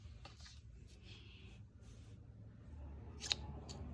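Scissors snipping string, a few quiet close clicks and one sharper snip near the end, over faint room background.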